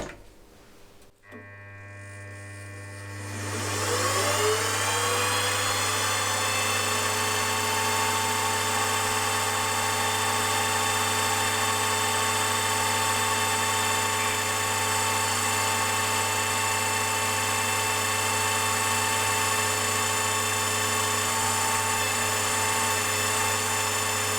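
A milling machine spins up an 8mm end mill for cutting a part of a Jerry Howell V-twin IC engine oil pump, then runs at a steady whine with a constant low hum, loud and unbroken throughout.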